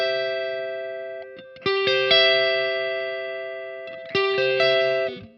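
Electric guitar through a Crazy Tube Circuits Crossfire overdrive pedal rings out sustained chords, struck twice with slowly decaying notes between strums, played alone with no voice.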